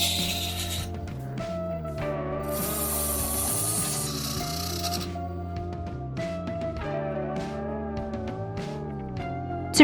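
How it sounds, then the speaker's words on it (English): A lathe spins a long wooden vase, tied at the neck and narrower toward the bottom, while a small blade shapes it, giving a continuous loud scraping hum with shifting tonal whine and rough rasping bursts. "still with the familiar lathe and a small blade, I shaped a vase"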